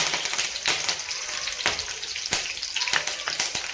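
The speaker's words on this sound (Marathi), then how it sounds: "लसणाच्या पाकळ्या पण मी तेलात टाकून घेतलेल्या आहेत आणि त्यामध्ये आपल्याला थोडासा कढीपत्ता पण टाकून घ्यायचा आहे" Curry leaves and garlic cloves frying in hot oil, a loud close hiss and crackle of sizzling with a few sharp pops and stirring clatters.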